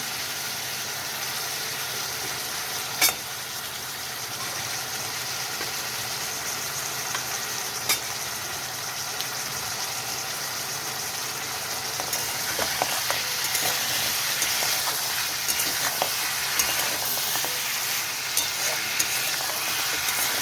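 Turmeric and sugar being stirred into oil in a frying pan for a crab curry, a continuous close sizzle with occasional sharp scrapes and clinks of the spatula, growing busier toward the end.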